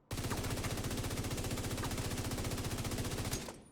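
Sustained automatic fire from a FAMAS rifle in a video game, a rapid, loud, evenly spaced burst of shots running unbroken for over three seconds, then a short fading tail.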